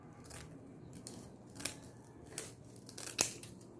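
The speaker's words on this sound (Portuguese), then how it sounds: "Com uma tesoura mesmo, a gente vem aqui, ó, em um desses buraquinhos e vamos cortar." Scissors snip into a dried loofah sponge, cutting it open for a spa kit craft: a few crisp, quiet cuts spaced about a second apart over a soft room background, with no talking.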